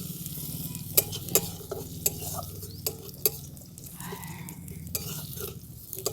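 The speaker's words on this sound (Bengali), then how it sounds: "আদাটা একটু ভাজা ভাজা করে নিচ্ছি।" Grated ginger sizzles in hot oil in a pan, a steady bright crackle punctuated by several sharp clicks of a spoon stirring against the vessel, with no voices.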